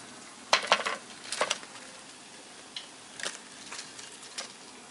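Spinach vadas frying in hot oil, a soft steady sizzle broken by a few sharp scrapes and clinks of a utensil stirring in the pan, with no one speaking.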